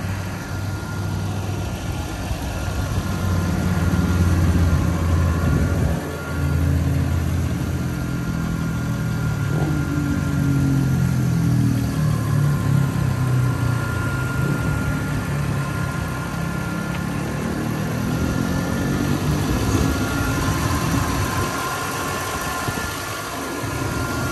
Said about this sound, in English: hover here for a moment so you can listen to the engine